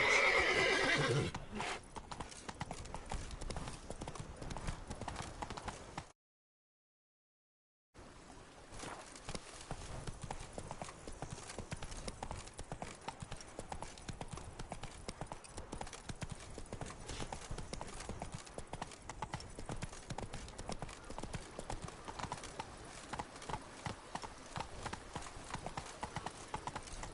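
Hooves of Roach, Geralt's horse in The Witcher 3: Blood and Wine, clip-clop steadily at a gallop throughout, opening with a whinny and briefly dropping out to silence partway through.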